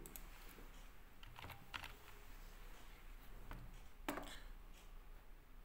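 Typing on a computer keyboard: a few scattered, quiet key clicks and taps in short bursts, close but faint against a low, steady room hiss.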